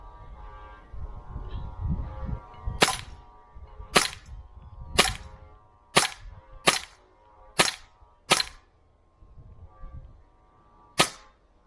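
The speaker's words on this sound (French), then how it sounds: "j'ai tiré tous les coups, plus de cartouches, enfin plus de billes" Cybergun Glock 17 Gen4 airsoft pistol firing BBs, eight sharp, loud cracks spaced about a second apart with a short pause before a final shot, over faint handling noise.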